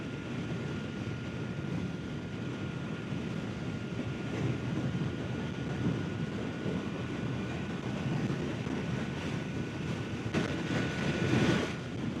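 A gravel hauler truck passes a moving motorcyclist, its heavy rumble swelling toward the end over steady wind roar, with no talking.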